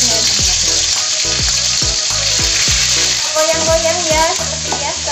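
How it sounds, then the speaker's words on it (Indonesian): Ground spice paste sizzling as it is sautéed in a pan for oseng ati ampela, a steady loud frying hiss with rhythmic scraping stirs of a spatula throughout. "Ayo langsung aja kita tumis bumbu halusnya dulu ya."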